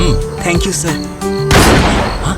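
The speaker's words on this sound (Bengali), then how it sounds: "এটা শিওর গুলির শব্দ" A single loud gunshot goes off inside a building in a Bengali crime drama, a sharp, heavy burst that hits right after a man's brief spoken thanks and rings out for under a second.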